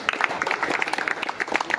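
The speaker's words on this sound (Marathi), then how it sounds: "त्यांचंही आपण शब्दसुमनाने एकदा जोरदार टाळ्या वाजवून स्वागत करूया." An audience at a rubber-ball cricket tournament event gives a burst of brisk, steady clapping to welcome a guest, moderately loud and continuous throughout.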